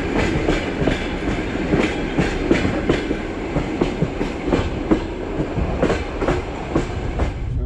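A train on the Baikal-Amur mainline in the Russian Far East rolls past close by, its wheels beating a steady, loud clickety-clack rhythm over rail joints under a continuous rumble.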